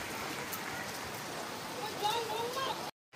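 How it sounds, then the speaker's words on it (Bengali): Steady rain pours down in a storm at a house still under construction, water dripping from above onto the stairs; a dense, even hiss fills the whole stretch, then stops abruptly at the very end. "বৃষ্টি তো হয়েই যাচ্ছে, কমারই নাম নিচ্ছে না"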